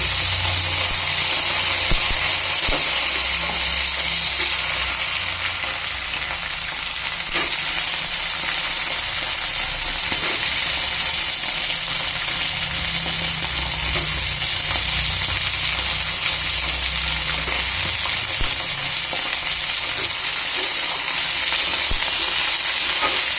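Steady sizzling and hissing of eggplant frying in hot oil in a pan, a continuous crackle with faint stirring underneath.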